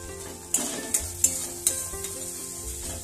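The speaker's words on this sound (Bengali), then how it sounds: "মশলাটাকে একটু ভালো করে কষিয়ে নেব" Spices with ginger paste and ground cumin sautéing alongside mutton liver in a pan for a Bengali curry, with a low steady sizzle and about four sharp metallic clinks of a spoon against the pan, close by.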